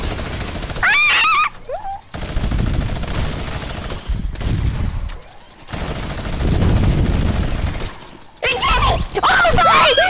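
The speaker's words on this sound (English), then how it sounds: "You can go get a minigun. Let me shoot." Rapid minigun fire in Fortnite in bursts mixed with game sound effects, while excited voices shout over much of it.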